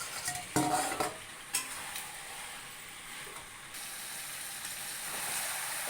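Meat with cauliflower and potato being sautéed in a pan: a low, steady sizzle runs throughout, with a few louder stirring scrapes near the start and a faint mechanical click, and no talking.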